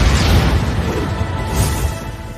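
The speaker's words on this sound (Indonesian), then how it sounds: "Ledakan besar terpicu dengan sangat keras" A loud explosion in an animated fight: a dense, rumbling blast that holds steady and heavy with low-end roar throughout, fading only slightly near the end.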